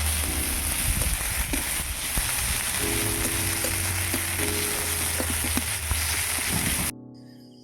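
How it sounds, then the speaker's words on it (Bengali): Ginger paste, garlic paste and onion fry in hot oil for aloo chop, a loud, dense, crackling sizzle with faint stirring that runs steadily before cutting off abruptly near the end. "আদা রসুন পেঁয়াজটাকে ভালো করে ভেজে নেব"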